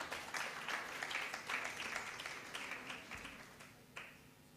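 Audience applause at a national symposium on ending teenage pregnancy and child marriage, a fairly faint wash of clapping that holds steady for several seconds and then gradually thins out.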